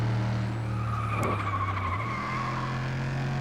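Race cars in the video game FlatOut 2 skid at the start of a street-class race on a special street circuit, with a sharp tire squeal over droning engines and a brief whooshing burst, loud and close, with no talking.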